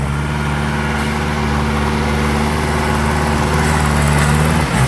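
A motor grader works a dirt road, its heavy diesel engine running steadily and loud up close throughout, scraping and leveling the surface to widen the track.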